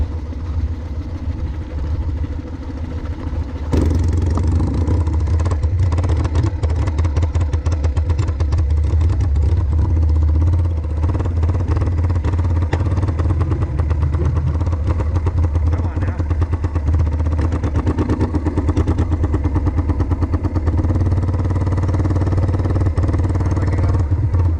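A motorcycle push-started in second gear with the choke on catches and fires into a loud, close, continuous engine run that holds steady with a rough, clattering edge, and a voice speaks briefly beneath it.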